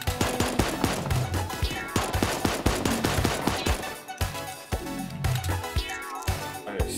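Dual pistols blast away in Super Animal Royale, a loud, rapid string of sharp cracking shots in quick irregular bursts, close and punchy, with brief pauses between volleys.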